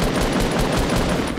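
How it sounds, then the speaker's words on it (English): Fortnite Battle Royale gunfire: a steady stream of rapid automatic shots, loud and close, with no pauses. "Can you please stop shooting at me, you fucking imbeciles?"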